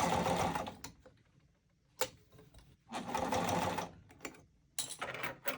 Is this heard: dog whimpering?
no